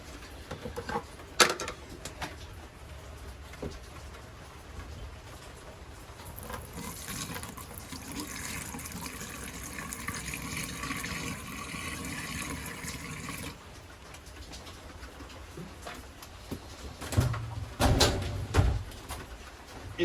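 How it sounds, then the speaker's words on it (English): RV antifreeze is poured into the sink drain of a Forest River No Boundaries 19.5 camper, a soft, continuous liquid trickle lasting several seconds. Louder knocks and handling clatter follow near the end. "We pour some RV antifreeze into the sinks."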